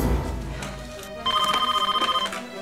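A telephone rings in a household: a rapid, trilling electronic ring pulses steadily for about a second, fairly loud and alone after a brief low rumble.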